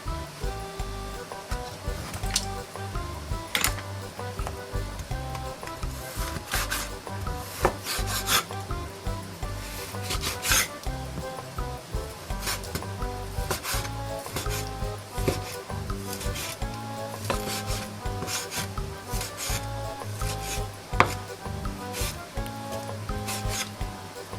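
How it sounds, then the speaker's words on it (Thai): A knife repeatedly slices raw pork for a marinade on a wooden cutting board, producing continuous rubbing, scraping strokes with sharper taps as the blade meets the board, steady and close throughout. "เราจะเริ่มหั่นกันค่ะ"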